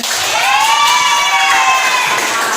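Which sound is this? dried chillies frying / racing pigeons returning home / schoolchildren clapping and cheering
schoolchildren clapping and cheering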